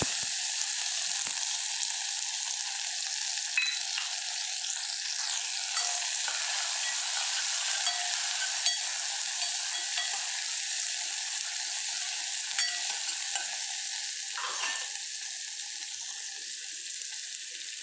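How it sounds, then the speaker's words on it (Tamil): Dried chilies and shallots fry in hot oil for a spinach dish, a steady close sizzle and crackle that continues evenly throughout with a few faint stirring scrapes. "காஞ்ச மிளகாய் சின்ன வெங்காயம்"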